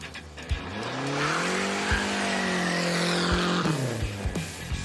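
A turbocharged, fuel-injected five-speed minivan roars down a drag strip, its engine note climbing steadily under hard acceleration with gear-change dips, loud and close throughout.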